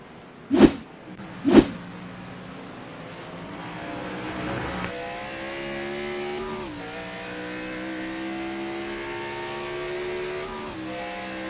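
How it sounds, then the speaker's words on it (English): A NASCAR Xfinity Series stock car races at the Red Bull Ring, two sharp bangs at the start followed by its V8 engine winding up through the gears, loud and near. "you heard the engine"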